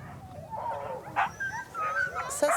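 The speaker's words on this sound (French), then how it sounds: "Les chiens hurlent à la mort." Hunters' sled dogs in the far north howl and whimper in rising, wavering cries, several voices overlapping at a moderate distance, with a few sharper yips near the end.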